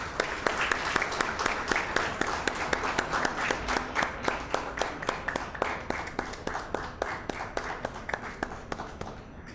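Steady rhythmic clapping from the crowd at a diploma convocation ceremony, a regular beat of claps over a softer wash of applause that holds throughout.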